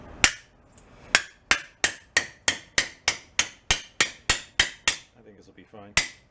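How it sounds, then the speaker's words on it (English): A 1972 VW Super Beetle frame part is hammered in a quick series of about fifteen sharp metallic strikes, evenly spaced and close, with a short pause before the last two blows. "kind of roll some of that back out with a hammer"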